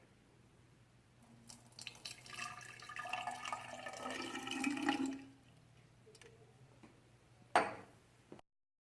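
Warm water pours steadily for a few seconds into a 500 millilitre graduated cylinder, building in a rushing, splashing stream before stopping abruptly; a sharp knock follows soon after.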